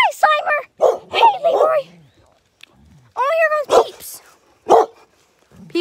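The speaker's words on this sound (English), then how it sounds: "He just likes to bark." Several dogs bark and yip close by in short, sharp bursts with whiny, whimpering tones between them, separated by brief quiet gaps.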